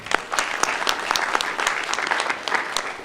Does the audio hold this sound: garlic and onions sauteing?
no